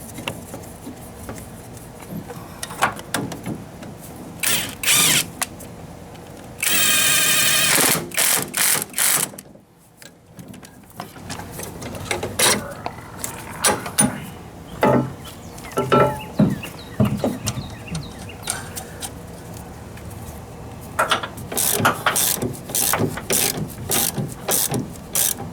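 Ratchet wrench tightening a 14mm bolt on the suspension fork of a JDM Honda CRV, bursts of rapid close clicking with a brief louder whirring spell and metallic clunks in between.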